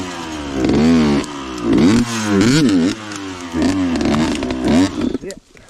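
A dirt bike engine revs repeatedly on a rainy ride, rising and falling in several loud close surges before cutting off abruptly, with the pitch sweeping up and down.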